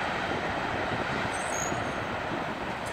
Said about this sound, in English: Short train